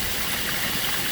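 Water streams steadily down a backyard waterfall, a continuous, close rushing wash with no breaks or voices.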